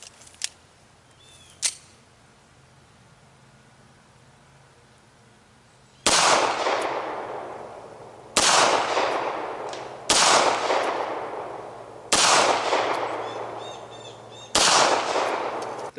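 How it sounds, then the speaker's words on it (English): 9mm Jesse James full metal jacket rounds fired from a Beretta pistol at an outdoor range at six yards: five sharp, loud shots spaced a couple of seconds apart, each with a decaying echo, after two faint clicks and a quiet lull. "This is the Jesse James ammo at 6 yards through the Beretta."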